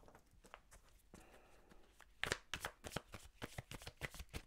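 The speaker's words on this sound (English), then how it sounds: "Three cards just fell out." Tarot cards shuffled by hand in repeated soft riffling bursts, followed by several sharper slaps and flicks as a few cards drop out onto a surface, close and fairly quiet.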